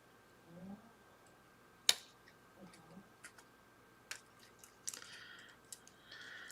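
Scissors trimming small white pieces from a rainbow pop-up card give a few faint, sparse snips and clicks spread across a quiet room, with one sharper cut standing out.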